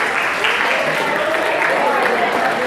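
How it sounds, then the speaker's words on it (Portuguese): Steady applause fills a lecture hall, honoring a boy in the audience, dense and continuous with a faint voice beneath the clapping. "Lindo menino, palmas para ele todo o tempo."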